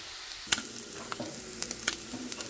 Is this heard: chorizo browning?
yes